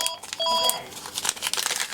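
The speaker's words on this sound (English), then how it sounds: "as you can hear the phone ringing" An electronic telephone trills in short repeated tonal bursts inside a busy working airsoft repair shop, fairly near and clear over faint background room noise.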